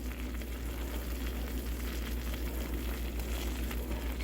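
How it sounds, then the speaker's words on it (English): Liquid boils steadily in a pan on the stove as homemade cinnamon roll filling cooks, giving a continuous low bubbling and sizzling hiss that holds even and unbroken throughout. "Really getting the boil good now."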